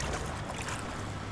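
A kayak paddled on the Orne river gives a steady wash of water and splashing close by, with low rumble underneath and no talking.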